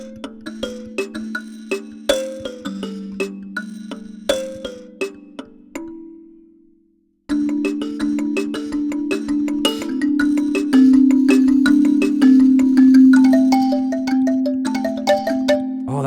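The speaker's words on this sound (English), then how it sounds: "Congolese sanza." Congolese sanza thumb piano plucked in a quick melodic run of bright, ringing metallic tines over a sustained low drone, pausing briefly before a denser, fuller passage continues, clear and close.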